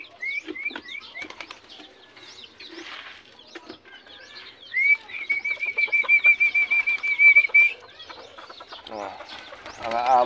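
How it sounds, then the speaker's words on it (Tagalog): Small bantam chickens cluck and chatter at feeding time, with one long high squawking call in the middle and busy flapping and scratching around them, close by and fairly loud throughout. "Nagutom tong maliit natin na bantam."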